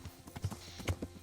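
Horse hooves clip-clop at a quick gallop in the video game Kingdom Come Deliverance, rhythmic thuds at close range, faint and alone.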